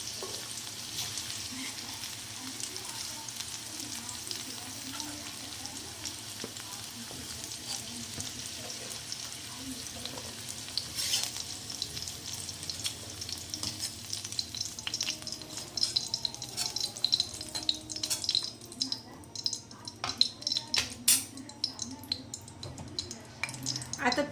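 Okra fries in oil in a kadhai with a steady bubbling sizzle that grows busier and more crackly toward the end, with occasional utensil clinks.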